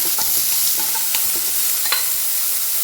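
Chopped carrots sauté in hot oil with curry leaves for a broccoli carrot thoran, a loud, close, continuous sizzle broken by a few scraping stirs of the spatula.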